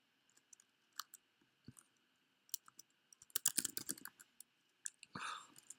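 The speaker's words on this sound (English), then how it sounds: "So bad at typing." Quick bursts of keystrokes on a computer keyboard during a roguelike game session, faint and close, with scattered clicks and clusters of rapid taps, no talk.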